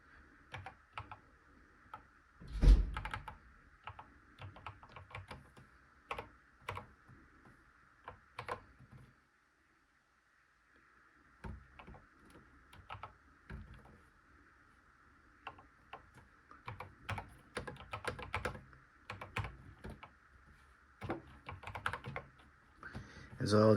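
Keys clatter on a Commodore 64 Ultimate Founders Edition computer keyboard in bursts of quick taps with a brief pause midway, close and moderately loud, over a steady low hum.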